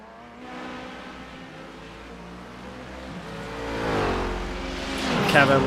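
An LMP1 prototype race car at Le Mans in a racing game sweeps past, its engine note rising from a low hum to a loud, fast-climbing whine as it closes in, with other engines droning underneath.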